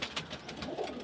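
A pigeon coos softly near its nest, where a bird sits on eggs, in a short run of low, rolling coos.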